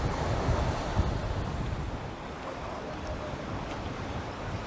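Strong wind buffets the microphone in a constant roar on the deck of New Zealand's Interislander ferry, with a faint wash of water beneath it.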